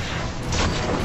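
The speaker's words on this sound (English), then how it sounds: "Pulse grenade, though." A pulse grenade goes off in Destiny 2 during an Iron Banner match, a loud, dense, rumbling blast that fills the whole moment and swells briefly in the middle, with no voices over it.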